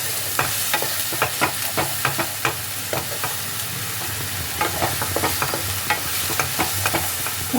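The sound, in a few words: stir-frying spice paste in oil for navratan korma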